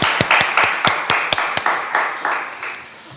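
A small group claps in a church Bible-study gathering, with sharp, uneven hand claps close by that thin out and fade toward the end.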